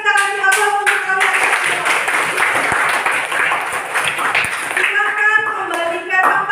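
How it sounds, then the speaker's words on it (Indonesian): A classroom of students and their teacher clap together in a lively burst of applause, with some brief voices at the start and end. "sebelum post test kita kasih aplaus untuk kalian"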